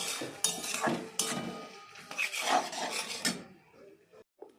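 Ginger is ground into paste on a dull, oily grinding stone. Rough, intermittent scraping and rubbing strokes come in irregular bursts, with short quiet gaps between them.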